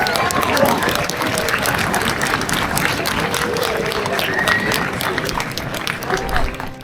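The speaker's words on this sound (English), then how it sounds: "After he finished his speech to the applause of the crowd" A crowd applauding after a speech at the Rothenburg Christmas market in a medieval German town, dense sustained clapping mixed with voices and crowd murmur, fairly loud and close throughout.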